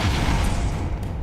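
Expulso blasting spell detonating in Hogwarts Legacy, a loud, dense, rumbling boom that fills the whole moment with heavy low-end roar and no clear break or voice.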